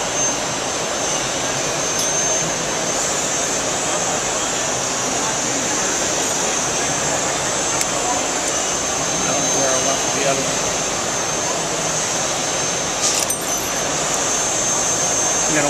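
A brazing torch heats brass and stainless steel on a trade show floor, giving a steady, loud roaring hiss that continues without a break, with a voice speaking over it.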